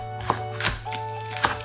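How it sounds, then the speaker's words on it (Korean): Knife chopping green onions on a cutting board for tomato hangover soup. Three or four separate crisp chops sound close up, with a steady kitchen hum underneath. "파는 어서 썰어주세요."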